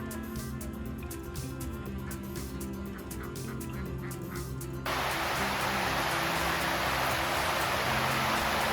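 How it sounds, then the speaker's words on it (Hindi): Heavy rain pouring down at a resort in Goa, a dense steady hiss that grows louder and fuller halfway through, with faint bird calls and patter in the background beforehand. "बारिश हो रही है।"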